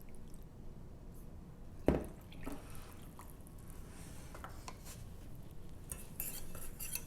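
A spoon stirs 4 tablespoons of cornstarch and 1 cup of water in a pan for homemade paint, giving soft wet scraping and a single louder clink against the pan, quiet and close.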